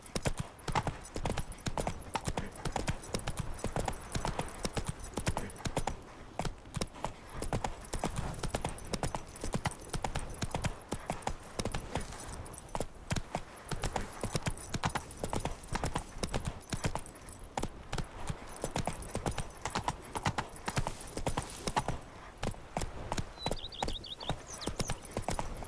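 Roach, the horse in the video game The Witcher 3 (Blood and Wine DLC), gallops with a continuous rapid drumming of hooves that stays loud and close throughout, with a brief faint voice here and there.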